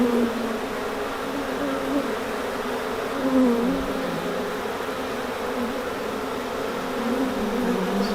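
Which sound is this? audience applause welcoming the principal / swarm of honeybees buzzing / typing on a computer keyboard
swarm of honeybees buzzing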